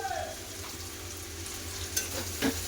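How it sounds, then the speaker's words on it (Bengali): Chopped onions and split green chillies frying in a pan with cabbage, a steady low sizzle with faint stirring scrapes and a couple of light clinks, no voices. "বাঁধাকপিটা এর পেঁয়াজ ভাজা হচ্ছে"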